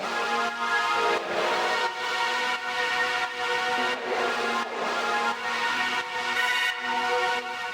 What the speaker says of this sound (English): more background paddy sound, and I pitched those down